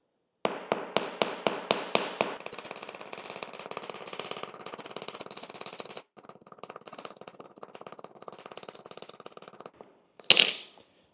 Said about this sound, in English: you're going to pull out a hammer and you're actually going to beat up this area